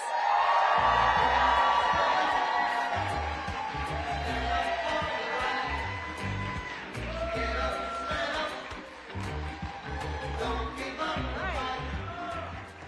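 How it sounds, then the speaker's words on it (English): Audience applause and cheering welcome Justice Anita Earles to the stage at a Democratic campaign rally in Durham, a loud, steady crowd roar that holds for the whole stretch with scattered whoops. "please help me give her a round of applause"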